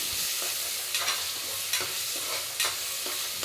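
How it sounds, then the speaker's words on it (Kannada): Fried masala for a home-style mutton biriyani being stirred with kasuri methi in a pan: a steady frying hiss with repeated spoon scrapes and clatters roughly every half second, close and with no voices. "ಇದನ್ನೆಲ್ಲ ಚೆನ್ನಾಗಿ ಮಿಕ್ಸ್ ಮಾಡ್ಕೊಳ್ಳೋಣ."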